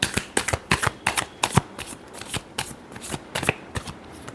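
A deck of tarot cards is shuffled up close, a rapid series of crisp riffling flicks and soft slaps in irregular bursts over a few seconds.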